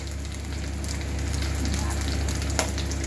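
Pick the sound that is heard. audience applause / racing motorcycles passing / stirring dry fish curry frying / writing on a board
stirring dry fish curry frying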